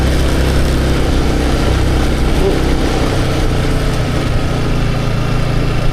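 Motorcycle engine running loud and close, a steady low droning rumble that holds without letting up.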